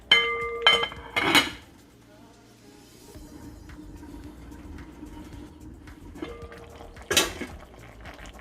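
A metal lid clanks down onto a pot of beef stew: a couple of sharp clinks and rattles at the start, then another clatter near the end, with quiet kitchen background between.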